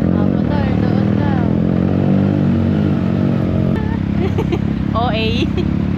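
Kymco AK550 scooter ridden on a nature trip in Mindoro, its engine a loud, steady drone with clatter throughout, while people call out over it.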